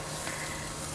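Onions frying in hot oil, a steady dense sizzle held at even loudness for a moment, with a brief stirring scrape near the end.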